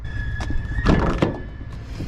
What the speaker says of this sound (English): let's go and check out the back doors